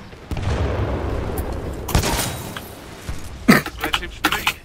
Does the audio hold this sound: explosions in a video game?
yes